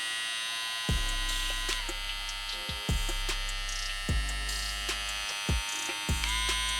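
A JRL FF 2020c electric hair clipper buzzes steadily, switching on and off several times with a bright whine and low hum, close by, running between 6,000 and 7,200 RPM.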